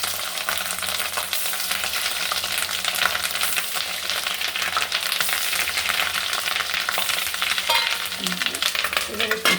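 Rohu fish roe sizzles and fries steadily in a hot pan with oil, a dense continuous crackle with small spits and occasional stirring, close and fairly loud throughout.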